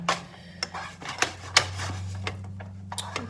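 Eggs cook in a pan while a utensil strikes the metal: a handful of sharp, separate clanks and clicks, close and irregular, over a low steady hum.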